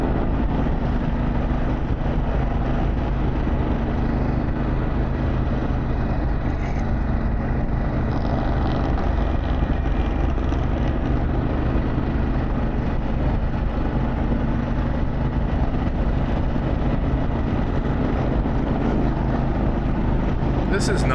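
An Indian Challenger motorcycle fitted with a Vance Hines exhaust rides along Route 9W near Bear Mountain, its engine a steady, loud low rumble with wind noise, continuous for the whole stretch.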